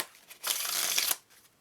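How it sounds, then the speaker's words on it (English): A deck of playing cards riffles and shuffles in one steady, close burst of fluttering paper lasting under a second, with quiet moments before and after. "So I'll give it a little bit more of a shuffle like that"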